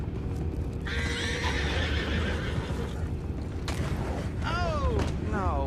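Horses in the video game Red Dead Redemption 2 whinnying with rising-falling neighs near the end, over hoof clip-clop, creaks and a low ambient rumble, with faint voices in the background.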